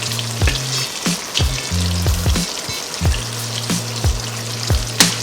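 Fish sizzling and frying in a pan, a steady loud crackle with repeated sharp scrapes and clinks of a utensil against the pan, no talking.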